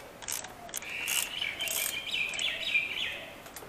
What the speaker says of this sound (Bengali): চার নম্বর অ্যালান কি হেড দিয়েই টাইটটা করছি